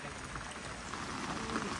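Heavy rain pours down at a farm in a steady, dense hiss with scattered drops striking surfaces nearby, continuous throughout.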